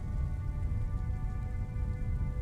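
Steady heavy rain pouring on surfaces in the video game Disco Elysium, a dense continuous hiss with a low rumble beneath, constant and close with no voices.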